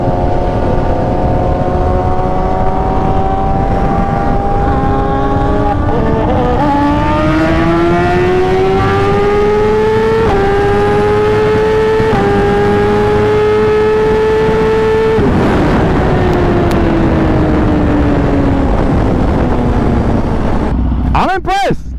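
A BMW S1000RR sport motorcycle engine revs hard through the gears in a loud, continuous wail, its pitch climbing and dropping back at each shift for over twenty seconds, with a voice faintly underneath.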